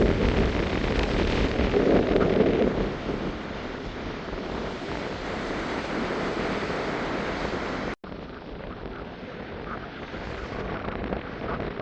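Strong storm wind on the Jaffna coast, near beached boats, roars and buffets the microphone in a constant heavy rush with surf-like swells, briefly cutting out before resuming just as hard.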